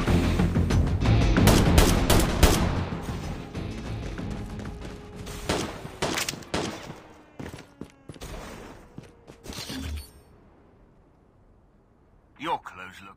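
Hip-fire gunshots in the mobile shooter Call of Duty Mobile, loud sharp bursts in rapid clusters with ringing tails, then scattered single shots tapering into quiet, with game effects near the end.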